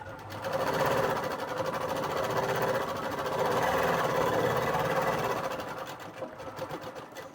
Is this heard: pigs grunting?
no